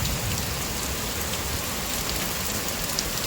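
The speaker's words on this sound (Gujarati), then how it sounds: "અને ભાઈ વરસાદ ધોધમાર પડે છે" Heavy downpour at night during a thunderstorm, a dense, constant roar of rain pounding surfaces with scattered louder drops, no voices.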